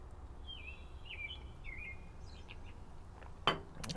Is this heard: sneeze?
no